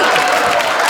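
Audience applause at a Marathi stage comedy show: a short burst of dense, steady clapping from a live crowd that fills the whole moment.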